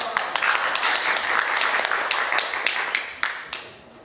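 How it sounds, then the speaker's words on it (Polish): An audience at a programming talk gives a burst of steady, dense applause that fills the room, then thins to a few last claps and fades out. "więc brawa dla was"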